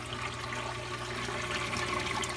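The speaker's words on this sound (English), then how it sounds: "the water comes in from both overflows" Water pours steadily from the overflows of a saltwater aquarium into the sump, a continuous rushing splash at close range without voices.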